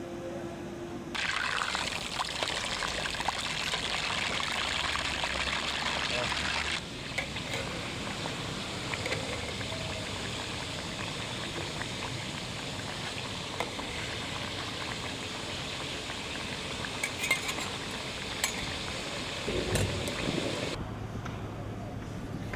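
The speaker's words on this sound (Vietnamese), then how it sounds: "Cá ngừ cắt khúc, dày khoảng 3-4 cm, sau đó cho lên chảo dầu nóng," Thick chunks of tuna, cut about 3–4 cm, fry briefly in a pan of hot oil, giving a loud, steady bubbling sizzle that later settles into a softer crackle with scattered pops, heard alone.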